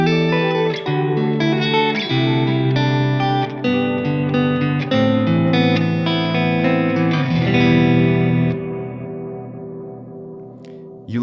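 Ambient guitar rings out through delay and reverb set to a darker tone, layered sustained chords and notes blending into a washy background that swells steadily, then fades as the trails decay, with no talking.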